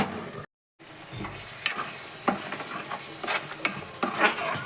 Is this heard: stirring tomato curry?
yes